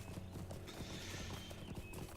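Horse hooves clip-clopping in the online game Lord of the Rings Online, a steady rapid trot close by and fairly loud over a busy game soundscape, with a brief whinny mixed in.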